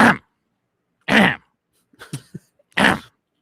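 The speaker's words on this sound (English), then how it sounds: "Clear your throat." A man clears his throat close to the microphone, three gruff bursts separated by pauses with a small grunt between them.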